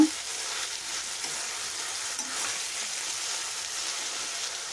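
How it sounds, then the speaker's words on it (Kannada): Tomatoes stirred and frying in a pan for onion rice, a steady soft sizzle with faint stirring scrapes, close and continuous with no talking. "ಈಗ ಟೊಮೊಟೊವನ್ನು ಸೇರಿಸ್ಕೊತಾ ಇದ್ದೀನಿ ಇದನ್ನು ಮಿಕ್ಸ್ ಮಾಡ್ಕೊಳ್ಳೋಣ"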